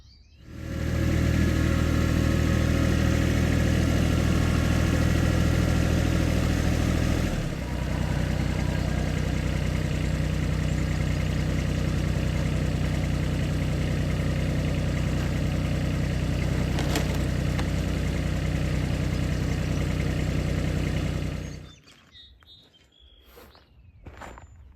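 A tractor engine runs steadily and loudly while a pruning attachment trims overgrown maple trees. The drone dips briefly early on, then holds before cutting off near the end, with no voices.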